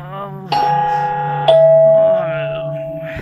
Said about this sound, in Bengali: কলিং বেলটা বেজে উঠল শেষবারের মতো